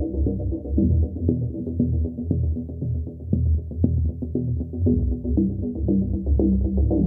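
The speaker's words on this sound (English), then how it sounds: "It's a BSA compressor." BSA compressor that will not fill higher than 60 bar, running with a low rapid throbbing mechanical pulse and a steady hum, close and even, with no talking.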